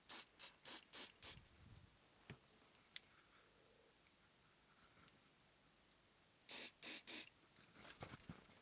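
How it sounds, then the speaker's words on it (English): Super glue activator sprayed in a handful of short, sharp hissing bursts while restoring a Bush TV22 television, four quick puffs followed later by three more, near and otherwise quiet. "Right, I choose some super glue activator."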